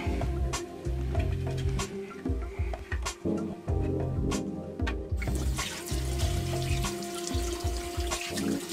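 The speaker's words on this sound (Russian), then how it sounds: "просто брызгаю на визор и растираю" Runway anti-rain spray is applied to a motorcycle helmet visor and then rubbed in, giving repeated short hissing sprays and wiping sounds over a steady watery background noise, with no talking.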